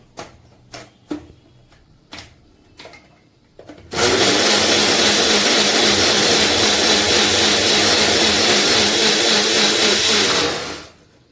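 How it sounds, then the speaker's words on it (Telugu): A few light clicks and taps, then a small Cookwell bullet mixer grinder, blending water, roars to life and whirs loudly and steadily for several seconds before cutting off. "యాజ్ యూజువల్ మనం బ్లెండ్ చేసుకోవడమే."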